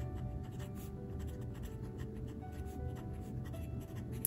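A Sailor Pro Gear Slim fountain pen writes on paper, a soft, steady nib scratch running continuously and faintly with no talk.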